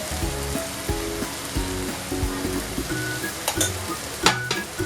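A spoon stirs pineapple paste into tomato puree frying in a pan, giving repeated scraping, clacking strokes in an uneven rhythm over a soft, steady sizzle, with a few sharper metallic clinks near the end.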